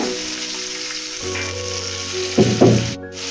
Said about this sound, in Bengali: পেঁয়াজটা সুন্দরভাবে ভাজা হয়ে গেছে, এর মধ্যে আমি হালকা একটু পানি দিয়ে দিতেছি